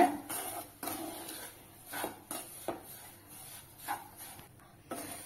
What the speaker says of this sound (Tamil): ஒரு 2 நிமிஷம் இதே மாதிரி லோ ஃபிளேம்ல வச்சு வறுத்துக்கோங்க.